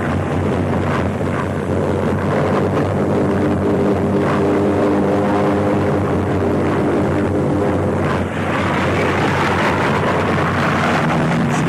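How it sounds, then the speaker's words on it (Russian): German wartime aircraft in flight, a dense, continuous propeller-engine roar with wind rush, loud and steady throughout with slight swells. "Самолеты воздушного флота «Райх»."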